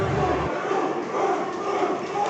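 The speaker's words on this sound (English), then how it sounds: "as you hear the crowd showing their support of the challenger in his losing effort here tonight" At a Super Texas Contenders Series wrestling event, a crowd cheers and roars for the challenger in Father Oday vs Jay Davis, loud, steady and continuous, with no clear talk over it.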